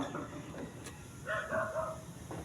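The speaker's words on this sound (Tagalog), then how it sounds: "Ito, malaking aso talaga yan." A large young dog gives a couple of short barks, moderately close, against a steady indoor background hum, with people talking around it.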